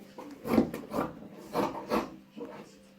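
Fabric for a two-color boubou is trimmed with scissors, giving a series of soft rasping snips and rubs at an uneven rhythm, close by and quiet.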